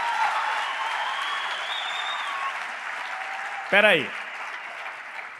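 Congregation applauding at a church worship service, a steady broad wash of clapping that fills the room throughout, with a brief spoken phrase cutting in near the end.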